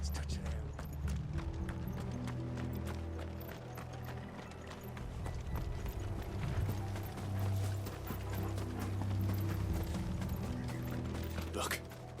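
Hooves of galloping horses in the video game Final Fantasy XVI, a continuous rapid clatter over rumbling low music and mechanical noise, with a brief sharp sound near the end.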